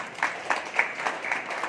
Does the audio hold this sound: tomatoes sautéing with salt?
no